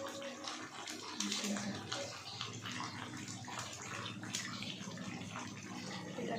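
Water poured into a pan of chicken being cooked for mangsho bhaat, a steady running, splashing wash of liquid heard close and continuous.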